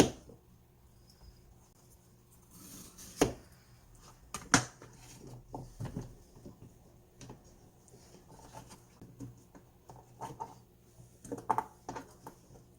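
Large pieces of Korean radish are shaved off with a knife for beef radish soup, making quiet scattered cuts and taps at an uneven pace, with a few louder knocks.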